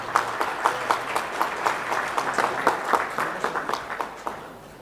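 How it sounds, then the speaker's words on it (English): An audience at AIMA's 67th Foundation Day and National Management Day gives a steady round of applause for the chief guest, a Minister of State. The dense clapping carries through with rhythmic swells and fades slightly at the end. "A huge round of applause for him,"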